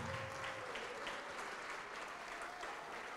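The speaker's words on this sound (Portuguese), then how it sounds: "Vamos aplaudir mais." A church congregation applauds during a Portuguese-language sermon, with sustained, moderately faint clapping across the whole short stretch and a little indistinct murmuring.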